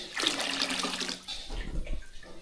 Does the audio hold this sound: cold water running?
yes